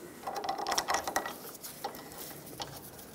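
Wheel bolts on a 1996–2002 Toyota 4Runner are snugged up with a quick burst of ratcheting clicks and metallic mechanism noise. A few lighter clicks follow, close and with no talk.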